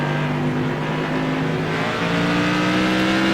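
A modified race car in iRacing at South Boston howls at close range, its engine note holding steady and then rising and falling with the throttle, with no talk over it.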